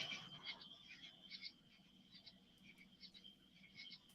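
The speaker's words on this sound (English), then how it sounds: "hearing the frogs too" Frogs croaking outdoors at night, a faint chorus of small repeated calls over a steady high insect-like drone, distant and quiet throughout.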